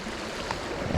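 Waterfall pouring steadily into a pond beside a Maryland river lock, a continuous close rushing wash of water that fills the whole second without a break.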